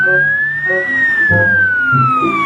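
A toy ambulance sounds a loud electronic siren whose single tone glides up and then slowly down, close and continuous, over a faint mechanical buzz.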